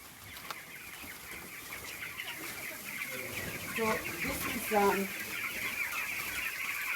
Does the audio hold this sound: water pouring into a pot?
no